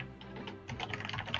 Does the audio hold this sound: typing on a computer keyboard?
yes